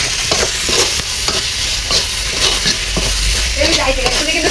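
Pumpkin frying in ghee makes a loud, close sizzle with the scrape and knock of a spoon stirring in the pan and a brief voice underneath.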